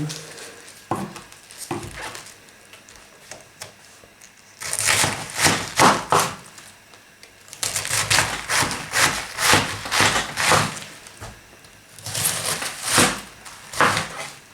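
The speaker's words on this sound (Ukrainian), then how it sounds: "Сделаем капусту порежем." Repeated knife strikes chopping cabbage on a cutting board in brisk bursts, crisp close chopping with short pauses between runs.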